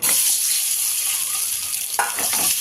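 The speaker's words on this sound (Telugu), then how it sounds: "స్టవ్లో కిందలు పెట్టేసుకొని ఇలా మనము ఫ్రై చేస్తున్నాం" Eggs fry in a pan seasoned with chili powder and turmeric, a steady close sizzle with brief stirring scrapes near the end.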